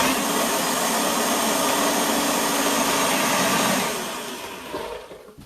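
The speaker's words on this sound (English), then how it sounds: "Handy dandy Vitamix that just won't die." A Vitamix blender runs at high speed through a plant-based nacho sauce of butternut squash, tomatoes, nutritional yeast and paprika, a loud steady whir that drops away near the end as the motor winds down.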